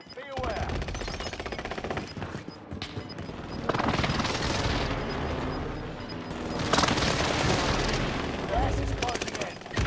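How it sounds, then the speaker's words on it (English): Airstrike explosions and heavy gunfire in the Call of Duty: Modern Warfare video game, with dense sustained bursts and booming blasts across the whole stretch, loudest in several surges, with faint game voice chatter in the mix. "Allied airstrike incoming."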